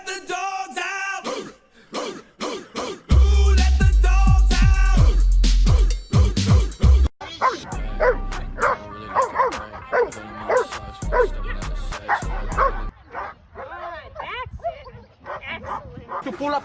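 A trained protection dog barks loudly and repeatedly in bursts, with yips and whimpers between, mixed with shouting people and loud music.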